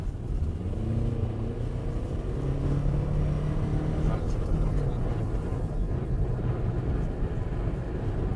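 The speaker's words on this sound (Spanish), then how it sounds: "Cuando ha acelerado ha sonado mucho y me ha parecido sospechoso" A modified high-horsepower car accelerates with a deep, loud engine note rising in pitch and then holding steady, heard continuously from a moderate distance.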